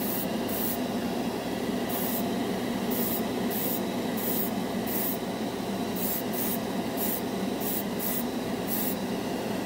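Dual action airbrush spraying clear coat, a steady close hiss of air and atomized paint broken into short repeated bursts as the trigger is pressed and released.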